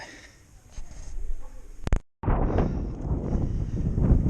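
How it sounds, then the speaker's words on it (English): Gusty wind buffets the microphone while cycling outdoors, rumbling loud and close, with a brief dropout partway through before the blustering resumes. "it is quite windy today actually, believe it or not. Fresh breeze."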